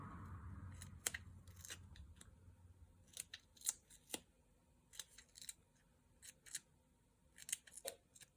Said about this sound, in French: je peux couper mes petits onglets